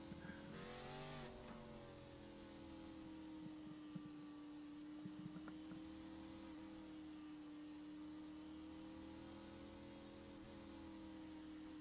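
Race cars circle an oval track at ISM Raceway in Phoenix in a racing video game, their engines a faint, steady droning whine with a brief surge near the start.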